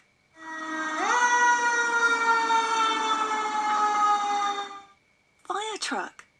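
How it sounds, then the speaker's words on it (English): A fire truck siren wails loudly and alone, its tone sweeping up and then holding a steady, harmonic-rich pitch for about four seconds, followed by a short voice after it stops. "Fire truck"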